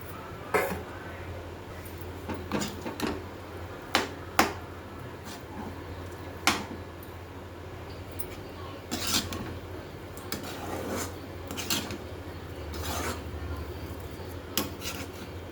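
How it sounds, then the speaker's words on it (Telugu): Rice being added to a pan and stirred in for pulihora, a run of scraping spoon strokes and sharp metallic clinks against the pan, irregular and fairly close, without talk. "ఇప్పుడు మనం రైస్ వేసి కలిపేసుకుందాము."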